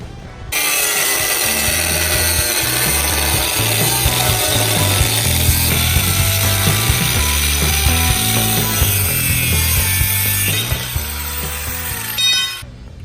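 A power tool cuts through a steel pole for a roof rack crossbar, a loud continuous grinding and rasping that runs steadily for about twelve seconds up close with a low rumble underneath, then stops abruptly.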